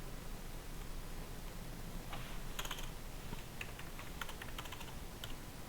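Typing on a computer keyboard during an accounting lesson: quiet clusters of key clicks over a hiss of background noise, with no talking.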